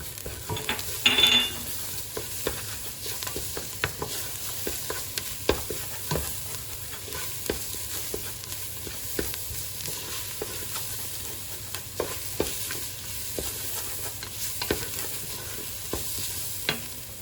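Garlic and green chilies fry over medium heat in a pan while a spoon stirs now and then, a steady low sizzle carrying short scraping knocks, with no talk.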